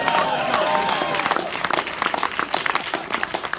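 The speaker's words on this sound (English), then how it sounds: "Big round of applause for Macaulay Culkin, everybody" Audience applause at a horror film Q&A, starting as a busy roar of clapping over a fading voice and thinning into scattered, uneven claps toward the end.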